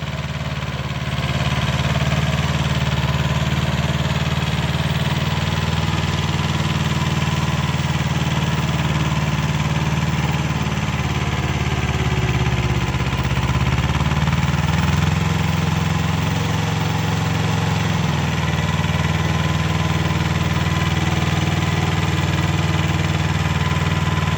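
A Kubota B5001 compact tractor rated at 9.5 horsepower runs steadily while tilling ground for garlic, its engine droning loud and close at an even, unbroken pitch throughout with only slight load shifts, and nobody speaking.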